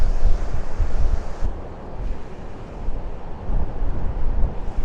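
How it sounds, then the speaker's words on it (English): Choppy sea waves roll and crash at Blackpool while gusty wind buffets the microphone, making a loud, continuous roar that swells and eases with no voices. "let's go and check out the sea. It looks a bit choppy out there."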